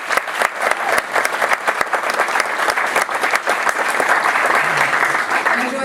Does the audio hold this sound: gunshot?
no